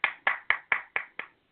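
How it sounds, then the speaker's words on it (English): One person claps six times at an even, unhurried pace, each clap crisp and close and then quickly fading, with silence following the last clap. "You hear me clapping for myself."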